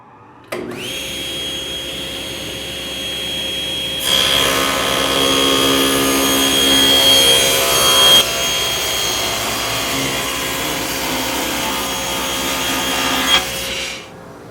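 Table saw with its fence set, trimming bathroom vanity panels to length: the motor spins up, a loud whining cut runs for several seconds, then the blade keeps running steadily before winding down, with no talk.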